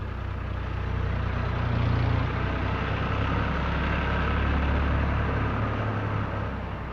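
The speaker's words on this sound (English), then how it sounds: "The 484 with fully synchromesh gears, 8 forward and 4 reverse, providing on-the-move gear change, is seen here muck spreading on a property in southern Australia" International Harvester 484 tractor working at muck spreading on an Australian farm, a low, steady engine rumble that swells slightly, heard up close with no talking.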